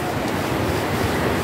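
A waterfall at a riverside campsite gives off a steady broadband rush of falling water, close and constant with no distinct events and no voices.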